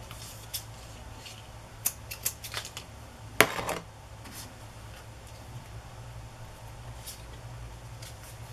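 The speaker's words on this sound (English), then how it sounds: "cut the strings a little shorter." Small scissors snip the strings of paper tags in a few quiet, close clicks over a low background hiss.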